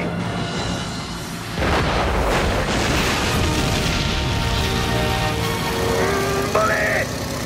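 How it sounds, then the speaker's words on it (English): A grenade blows up in an animated Tarzan jungle adventure, a sudden loud boom with a rumbling roar that carries on among engine noise and a busy cartoon soundtrack. "The grenade!"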